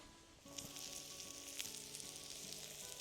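Food sears in a hot pan at a winter truck campsite, a steady close sizzle and crackle of frying that swells after a quiet start and holds on, with a faint hum beneath it and no voices.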